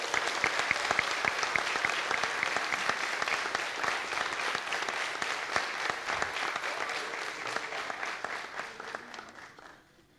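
A church congregation applauds God for their pastors, a dense, steady wash of clapping hands that holds strong for about nine seconds, then thins and fades out at the end.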